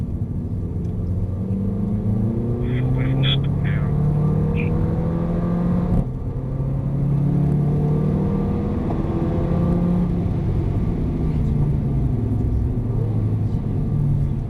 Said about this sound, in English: as you're coming up to the corners, you should hear her coming down through the gears